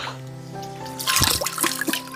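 Clean water from a mountain spring trickles and splashes nearby, with a soft steady flow that turns into a louder burst of splashing partway through.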